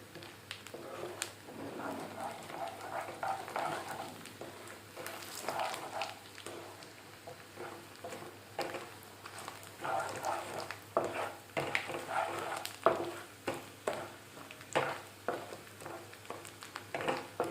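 Urad dal, chana dal, cumin, mustard seeds and garlic frying in a pan, with a soft continuous sizzle and scattered light clinks of a spoon against the pan, no voices.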